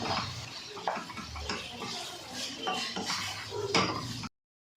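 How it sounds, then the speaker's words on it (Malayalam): Green capsicum, a large green chilli, being stirred in a pan for a Chinese-style prawn dish, with steady scraping and clinking of a utensil against the metal, fairly close and continuous, no talking. "ക്യാപ്സിക്കം എന്ന് ഉദ്ദേശിക്കുന്നത് ഒരു സൈസ് വലിയ മുളകാണ്, പച്ച കളർ, നല്ലവണ്ണം ഇളക്കി കൊടുക്കുക"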